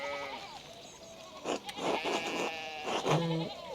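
Sheep bleat several times in the medieval-village game Pentiment, wavering harmonic calls spread across a few seconds, loud and close, with game ambience behind them and no talk.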